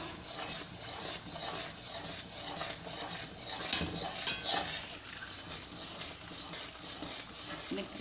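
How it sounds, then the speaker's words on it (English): A spoon scrapes and rubs steadily around a pan as a Mysore pak mixture is stirred continuously, a close, repetitive scraping with light metallic clinks and no voices. "See, you have to continuously stir it."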